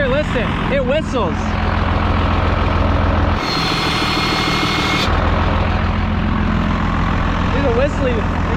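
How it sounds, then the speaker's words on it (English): Whistling from the wet, steam-soaked engine bay of a worn hotshot truck, a steady thin whine riding over the loud idling engine, with brief rising whistle-like chirps and a short hiss burst in the middle. "There's a whistling."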